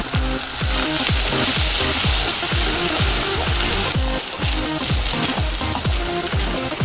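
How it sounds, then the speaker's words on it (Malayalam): Onion, garlic and ginger sauté in a pan for a Kerala-style sardine curry, giving a loud, steady sizzle broken by a quick, regular scraping rhythm of stirring throughout, with no talking. "ഉള്ളി, വെളുത്തുള്ളി, ഇഞ്ചി എന്നിട്ട് വഴറ്റിയെടുക്കണം."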